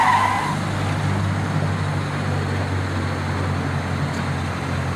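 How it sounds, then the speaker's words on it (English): A car backs out with a low steady engine rumble and a brief tire squeal at the start, the motor droning on close by for several seconds with no talk. "Could you not see my car backing out?"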